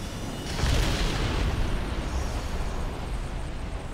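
A single deep boom from an explosion in Command & Conquer 3: Tiberium Wars bursts out and then rolls into a long, rumbling decay, loud at first and fading gradually.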